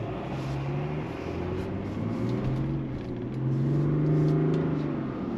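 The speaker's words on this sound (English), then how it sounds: "I've barely touched pedal and it like shoots out." A Chevrolet Silverado pickup with the LZ0 Duramax diesel accelerates on a rainy drive, its engine note rising smoothly through gears, heard from inside the cab with a louder surge near the end.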